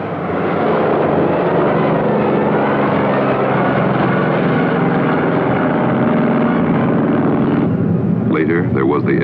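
A loud, steady propeller engine roar from an F6F carrier fighter plane drones without a break, and a brief voice cuts in near the end.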